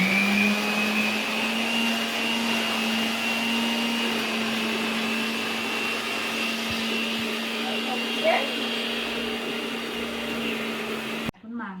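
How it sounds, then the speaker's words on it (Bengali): A kitchen blender grinding coriander leaves into a paste, a loud steady motor whine with a constant droning pitch that runs nearly twelve seconds before cutting off abruptly near the end. "বেটে নি ধনে পাতাটা।"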